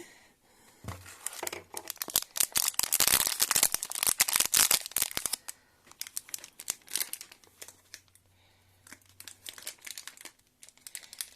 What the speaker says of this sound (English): so I'm using nail clippers to open the little bag